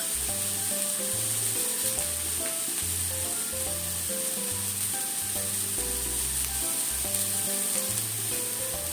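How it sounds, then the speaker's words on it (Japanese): Shiitake mushrooms and sliced leeks sizzle steadily in a hot pan, left unmoved to brown. The frying hiss is loud and continuous, with quiet music underneath. "ちょっと動かさないで開いて焼きましょうね。"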